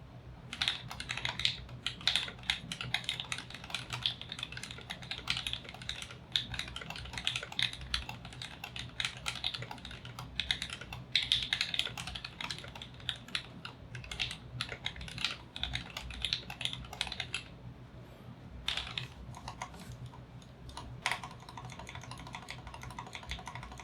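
Steady, rapid typing on a KBD75v3 75% mechanical keyboard with Durock 65g linear switches, close up, with clacky keystrokes and a brief pause near the end before it resumes.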